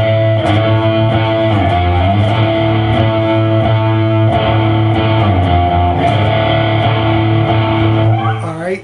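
Distorted electric guitar chugging a riff, a dense, steady, loud wall of overdriven chords with sliding notes, ending abruptly after about nine seconds.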